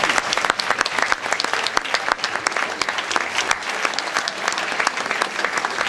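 Sustained, loud applause from an audience at a peace-week evening gathering in Périgny, dense clapping continuing evenly throughout with crowd noise underneath.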